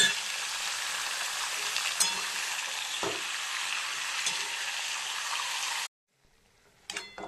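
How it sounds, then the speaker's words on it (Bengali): Chicken frying in a pan gives a loud, continuous sizzle with a few sharp clinks. It cuts off abruptly into near silence, then a brief clatter follows. "চিকেনটাকে হালকা ভেজে নিয়েছি।"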